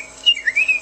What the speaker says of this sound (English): Hello, little birds.